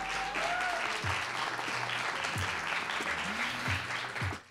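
An audience applauds the jury score at a European slam poetry championship, steady moderate clapping throughout with a few brief low thumps, fading out at the close.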